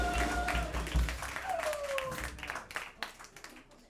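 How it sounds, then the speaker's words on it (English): Audience at a festival clapping in a round of applause, an uneven patter of hands that thins out over a few seconds, with a sustained tone and low rumble underneath. "So how about a round of applause for Neil?"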